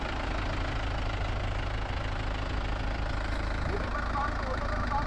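The engine of a Mahindra YUVO Tech Plus 575 tractor with cage wheels, stuck in sticky mud, runs as a steady low rumbling drone, continuous and fairly close.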